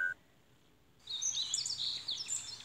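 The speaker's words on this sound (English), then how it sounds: "I could hear the sound of birds chirping." Small birds chirp in the morning in a dating game scene, faint quick twittering calls that begin after a moment of near silence and repeat in light bursts.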